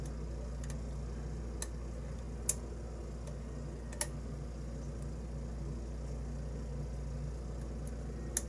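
Pins clicking while an "Uncle Billy" challenge lock is picked upside down: a handful of small, sharp, isolated ticks spaced irregularly over a steady low hum, with no voices.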